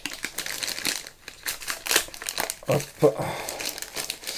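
A plastic sachet of playing cards from a board game is torn open, giving continuous close-up crinkling and rustling while someone talks over it.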